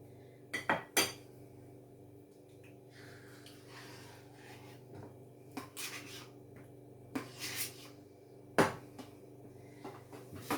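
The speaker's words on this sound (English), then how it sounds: "So pop all that lovely cream cheese into there." Cream cheese spooned into a bowl of sugared double cream, sharp metal spoon clinks and taps against the bowl in scattered bursts, with soft scraping between them and no talk.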